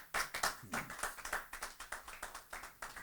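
A church congregation applauding, steady rhythmic clapping in an even beat of distinct, fairly soft claps that carries on for several seconds without voices over it.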